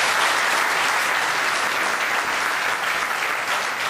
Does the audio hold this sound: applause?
yes